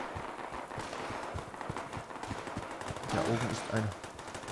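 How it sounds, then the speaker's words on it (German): Gunfire in the video game Fallout 76 crackles in quick bursts under players talking, shots coming rapidly and at moderate distance throughout. "Oh, ich höre Schüsse."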